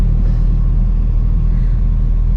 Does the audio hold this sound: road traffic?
yes